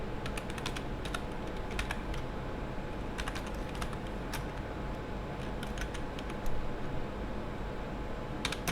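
Steady key taps on a computer keyboard as a command is entered into a Cisco switch configuration, in irregular bursts of clicks over a constant low hum, with no voices.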